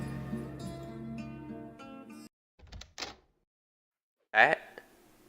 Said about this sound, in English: That whole thing that door sound you heard was completely ripped off.